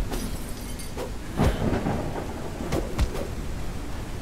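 Thunderstorm in the video game Troublemaker: continuous rain hiss with several sharp thunder cracks and rumbles, two big claps standing out near the middle and close together later, loud and close.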